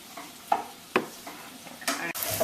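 Ground meat browning in a pan, with a low background sizzle and several stirring scrapes and knocks of a utensil against the pan, close by and quiet to moderate, louder toward the end.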